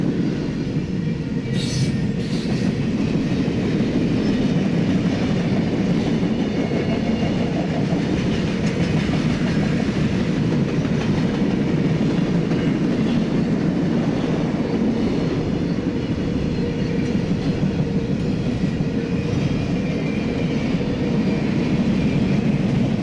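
A long freight train of mostly empty covered hoppers and flatcars loaded with new steel rail rolls past at close range, a loud continuous rumble with rhythmic clickety-clack of wheels and no voices.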